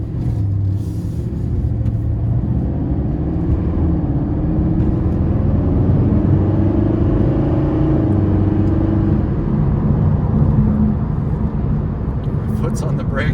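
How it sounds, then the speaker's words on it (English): A red 2012 Mercedes-Benz SLS AMG supercar engine rumbles low and steady while driving, a continuous deep drone filling the cabin with a few voices talking over it. "Definitely sounds like you're driving a muscle car in here."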